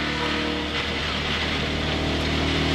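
A damaged race truck engine running badly during the 2010 Too Tough To Tame 200, a loud, continuous rough drone with a harsh buzzing tone that holds steady and close throughout.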